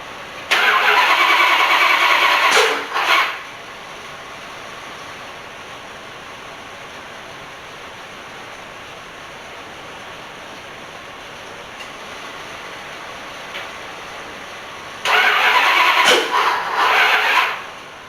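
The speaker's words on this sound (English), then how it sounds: "What you hear running is our Ford Ranger in the background, keeping the battery charged up on it." A Ford Ranger pickup truck engine idles steadily in the background throughout, with louder bursts of broadband noise near the start and again near the end.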